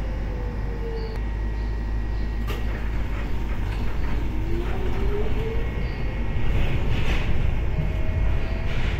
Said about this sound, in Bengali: সামনে থেকে একটা ট্রাম আসতেছে 14 নম্বর।